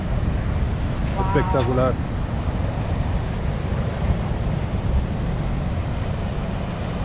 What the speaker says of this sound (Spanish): Mira los waves y todo.